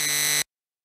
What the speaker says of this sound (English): It just started beeping all of a sudden.